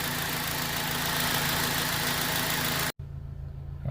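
A 2004 Honda Civic 2.0-litre engine with 240,000 km idles steadily with a low, even hum and faint mechanical rumble; the sound cuts out briefly near the end, then resumes quieter.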